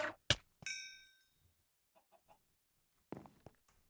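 An angry chicken in modded Minecraft 1.12.2 lets out a few sharp, close clucks and squawks, followed by softer scattered clucks and one more loud burst near the end, with no talking.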